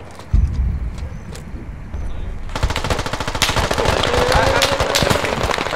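Heavy rapid-fire gunfire in the war in Ukraine rattles in a dense, continuous burst after a single sharp shot, growing louder and sustained over background noise.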